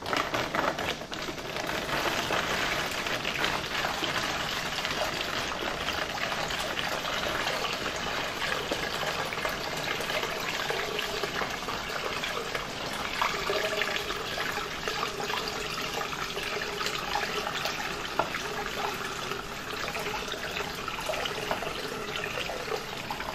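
Water pours steadily into a short, fat 4-liter doypack pouch until it holds 3 liters, making a continuous close gushing rush that goes on at an even level throughout with no talking.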